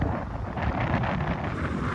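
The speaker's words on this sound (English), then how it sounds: "That's how windy it is." Strong wind roars and buffets loudly against the microphone on a farm with a storm brewing, a dense continuous rush with gusty swells and no voices.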